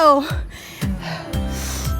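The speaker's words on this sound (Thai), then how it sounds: "เสียงหอบนิดนึงแต่คุ้ม" Heavy, quick panting breaths from someone walking uphill to a viewpoint near Phuket's wind turbines, close and loud, with a few sharp breaths in rapid succession.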